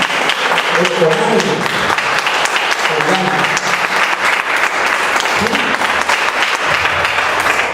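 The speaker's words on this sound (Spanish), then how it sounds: "Si van a aplaudir, aplaudan al Señor" Sustained applause fills the room at a church service, a dense wash of clapping with some voices mixed in beneath it.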